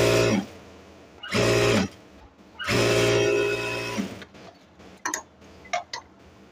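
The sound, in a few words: sewing machine stitching the hem of a salwar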